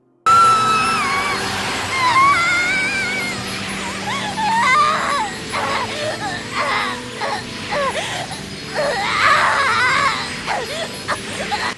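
An anime character lets out a long, shrill, wavering scream while stabbed with a sword, rising and falling in pitch over several seconds, loud and piercing with brief breaks.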